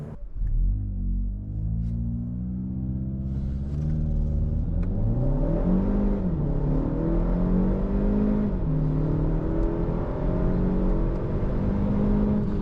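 A Kia ProCeed GT engine revs up hard and climbs steadily through the gears, the rising whine shifting and pulling strongly, close and loud throughout.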